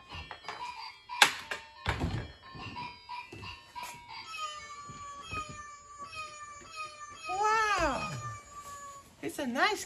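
A battery-powered robot toy cat gives a few synthetic meows, including a long warbling one, among thumps and clatter, with people talking nearby at a mini zoo outing.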